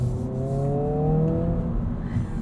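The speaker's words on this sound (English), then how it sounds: "You can hear that active sound management." A 2022 Honda Civic Si engine with active sound management hums at close range from inside the cabin, a smooth rising drone as the revs climb and then settle.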